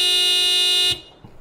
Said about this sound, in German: werden jetzt mal mit dieser Hupe hier Hobbs wecken